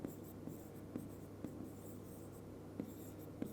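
A pen writes on paper during a maths lesson on geometric constructions, giving faint scratchy strokes with a few sharper taps against a quiet room hum.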